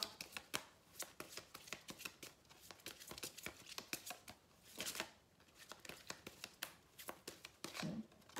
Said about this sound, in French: Allez, on va tirer une petite carte de l'oracle de la spiritualité que j'aime beaucoup.